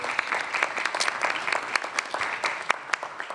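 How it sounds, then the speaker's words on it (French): Municipal council members in a French town hall give a round of applause, with many hands clapping in an irregular, lively patter at close to moderate distance, with no speech over it. "Donc voilà, on peut l'applaudir ce soir."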